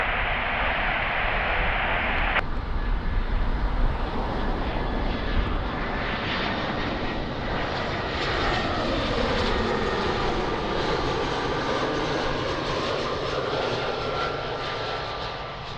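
Aircraft on approach to runway 02 at Lisbon Airport, a steady loud engine roar with a gradually shifting whine, continuous and close throughout.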